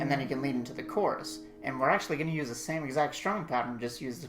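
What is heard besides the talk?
No everyday noises stand out.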